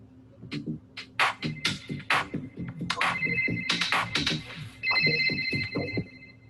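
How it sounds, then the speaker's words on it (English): A ringtone sample inside a minimal house track built in Ableton, with bright electronic ringing tones over a bouncy, pulsing beat and a bass rhythm that repeats in a steady pattern. "it's kind of like bouncing playfully off of the ringtone as well"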